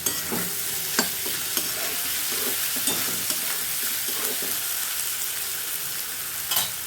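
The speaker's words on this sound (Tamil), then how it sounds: "வெங்காயம் உருளைக்கிழங்கு மட்டும் கொஞ்சம் வதங்கட்டும்." Chopped onions and potatoes sautéing in a hot pan for a prawn thokku, a steady close sizzle broken by several sharp scrapes and clacks of a spoon stirring, with no talk.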